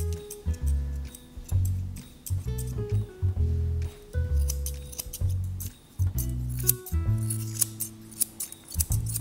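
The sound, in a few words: scissors trimming a dog's muzzle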